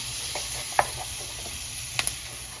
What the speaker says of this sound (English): they're sauteing up very nicely right now